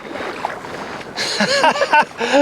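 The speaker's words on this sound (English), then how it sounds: "Laura's just started paddling" Paddles dip and splash through the water of a Scottish loch from a small rowing boat, a quiet stretch giving way to several close, sloshing strokes over faint wind noise.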